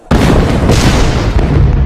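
Explosions boom across Hue City as the Tet Offensive opens in Vietnam, a loud sustained rumble of blasts and artillery-like bursts filling the whole stretch with no break.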